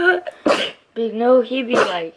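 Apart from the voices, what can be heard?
sneeze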